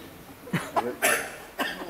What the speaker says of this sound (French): Et maintenant, vous toussez.